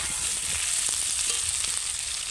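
Onion and potato pieces frying in hot oil for a fish curry, a steady bright sizzle in the pan with soft scraping as the pieces are stirred, close and continuous with no talking.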